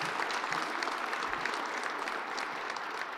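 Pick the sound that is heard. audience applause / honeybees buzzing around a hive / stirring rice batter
audience applause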